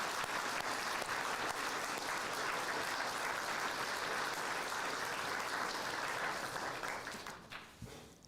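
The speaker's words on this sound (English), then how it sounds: "give everyone else a jolly good clap" Graduation ceremony audience giving a sustained round of applause, dense even clapping throughout that fades out in the final second.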